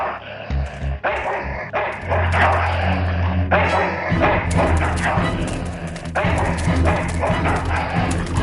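A dog barks loudly and repeatedly in the Full Throttle video game, the barks layered over dense, busy game audio with a low droning bed.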